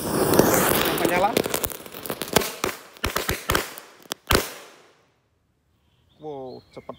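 XXL match-type firecrackers buried in the ground go off as a fast, loud series of sharp bangs and crackles, close by, fading to silence before a short burst of voices at the end.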